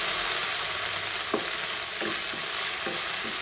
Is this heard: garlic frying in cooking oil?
yes